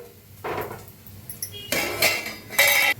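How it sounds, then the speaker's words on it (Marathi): A metal kadhai is set on a gas stove, giving three separate bursts of clanking and scraping, the last two louder and longer, in an otherwise quiet kitchen. "आता गॅसवर ठेवले बघा कढाई ठेवलेली आहे"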